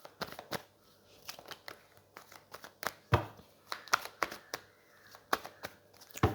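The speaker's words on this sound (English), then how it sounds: "what am I shuffling for?" Tarot cards being shuffled during a reading, a string of sharp papery flicks and slaps in irregular bursts, close and fairly quiet with no talking.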